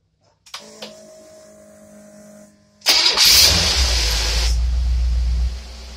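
Marine engine fitted with a Rochester carburetor cranks briefly, then catches and settles into a loud, steady run close by, with no talk over it.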